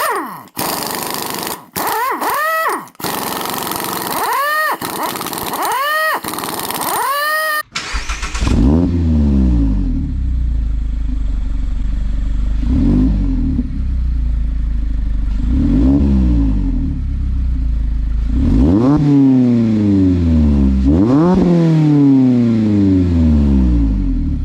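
A loud Roadster Sport exhaust on an ND Mazda Miata barks through several sharp revs, each rising and falling, then settles into a deep rumbling idle between repeated throttle blips.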